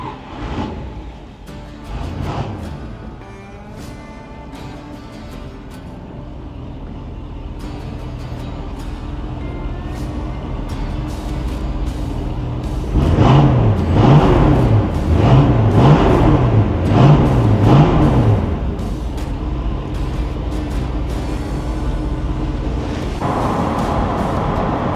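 A 1964½ Mustang Coupe with a rare D-code V8 idles with a deep, steady rumble, then revs up repeatedly in several rising and falling pulls before settling back to a strong idle, close and loud with no talking.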